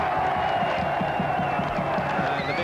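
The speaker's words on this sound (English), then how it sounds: "a big round of applause as the half-time whistle goes" A rugby crowd at a 1983 Lydney v Sale match applauds at half-time, a steady wash of clapping and murmuring that fills the ground, with a few faint cheers and no clear talk above it.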